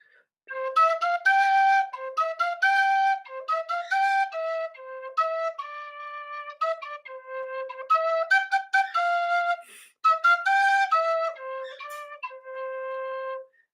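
A tin whistle plays a bright, breathy melody of clear, detached notes, alone and close, with short pauses between phrases.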